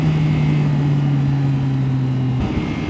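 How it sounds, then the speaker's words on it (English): Engine of a Yamaha XSR900 GP motorcycle in sport mode, a loud steady droning hum with strong low tones that holds evenly, then shifts and drops near the end as if easing off or changing gear. "The engine in this is just beautiful."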